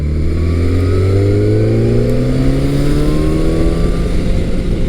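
A Yamaha FZ1 second-generation sport-standard motorcycle engine pulls loud and close under steady throttle while riding, its droning tone rising smoothly in pitch as it accelerates.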